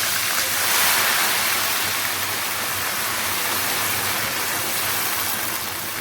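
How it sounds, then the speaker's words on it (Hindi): Ginger-garlic paste thinned with a little water sizzles loudly and steadily in a hot pan as a tempering for potato pulao, a dense, continuous hiss with no talk over it. "ये हमने इसका लहसुन अदरक का थोड़ा सा पानी डाल के बघार लगा लिया"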